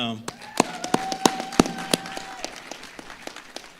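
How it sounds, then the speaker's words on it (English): A team at a base town hall clapping for themselves, scattered sharp claps from a small group that thin out over a few seconds, with a faint tone and voices in the background. "All right, Team FSS, give yourself a hand of applause"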